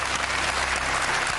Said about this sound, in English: Please don't applaud him